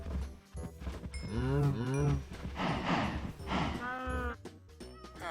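Several cows in the video game Minecraft moo close by, long low drawn-out calls overlapping one another, with someone talking between them.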